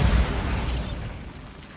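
A Bombarda blasting spell going off in the Hogwarts Legacy video game, a loud, heavy, booming explosion whose rumble fades out over a second or two.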